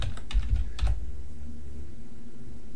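Brief burst of typing on a computer keyboard, a few close, fairly loud keystrokes in the first second, then quiet room tone.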